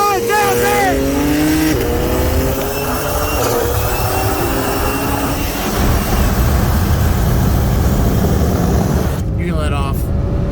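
A 2018 BMW 340i with downpipes and a 2011 BMW 335is with 19T turbos on E85 accelerate hard from a 40 mph roll, their engines loudly rising in pitch through the gears with a roaring exhaust and rushing wind.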